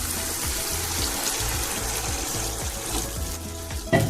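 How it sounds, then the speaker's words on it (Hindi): Water poured into a pot of fried lentils (dal) with ghee, a steady low splashing and gurgling pour that runs throughout, with a brief clink near the end. "पानी मैं अपने अंदाजे से डाल रही हूँ"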